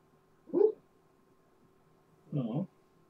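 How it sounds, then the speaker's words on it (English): A pet dog barking in her sleep lets out two short, muffled woofs about two seconds apart, close by in a quiet room. "My dog is barking in her sleep right now."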